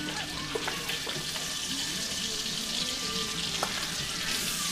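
Bacon sizzles and crackles steadily in a hot pan at close range, a continuous frying hiss with faint clinks of a utensil and no talking over it.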